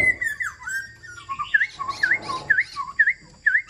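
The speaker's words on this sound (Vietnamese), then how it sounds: "Con này rất là mau mỏ luôn, hót suốt buổi sáng giờ các bác nhé." A caged black-throated laughingthrush sings a run of loud, close whistled phrases and squawky notes, repeating short bright calls in quick succession with no voices over it.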